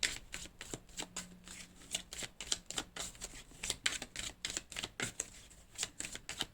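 Cards are drawn from a tarot deck and laid down one after another. They make a quick series of close, crisp flicks and slaps in an irregular rhythm, with faint rustling in between.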